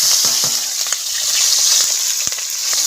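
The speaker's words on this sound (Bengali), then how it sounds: "এই তেলে দিয়ে দেবো চিংড়ি মাছ ভাজা" Prawns frying in hot oil in a home kitchen pan, a steady loud sizzle with faint stirring clicks and no talking.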